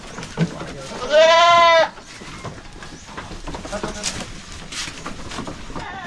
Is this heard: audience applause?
no